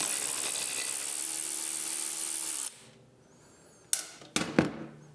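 A 14mm socket ratchet loosens the lower shock bolt on a 2024 Triumph motorcycle. A steady buzzing whir carries on for about two and a half seconds and stops, then sharp metallic clicks and clanks follow close by.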